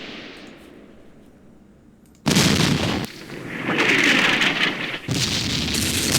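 Artillery fire in a Campaign Series Middle East wargame set in an Arab-Israeli war: after a quiet stretch a sudden loud blast hits, followed by sustained rumbling bursts with a second sharp impact near the end.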